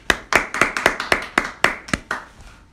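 A small group claps by hand to cheer for a singer while a music video plays, with about eleven sharp, fairly loud claps in a loose, uneven rhythm and no talk over them.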